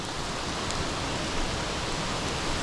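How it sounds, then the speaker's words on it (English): Rain starting to fall in a wooded park, a dense, even hiss of drops that stays steady and fairly loud throughout. "this rain about to start picking up real bad"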